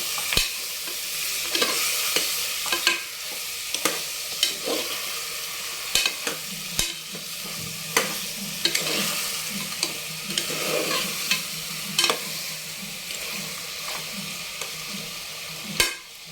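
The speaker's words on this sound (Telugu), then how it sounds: "ఆయిల్లో ఏగుతుంది కదా, ఏగినప్పుడు ఈ ముక్కలు కన్నది బాగా సాల్ట్ పడుతుంది" Mutton pieces frying in oil, a loud continuous sizzle and crackle with repeated sharp clanks of a spoon striking the pan every second or two as the meat is stirred.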